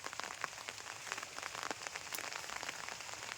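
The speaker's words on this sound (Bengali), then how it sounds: "এই বৃষ্টি এখনো হচ্ছে টুকি টুকি টুকি টুকি করে।" Rain falling steadily over a village before dawn, a dense, even patter of drops on surfaces with scattered louder nearby taps, continuous and moderately quiet with no voices.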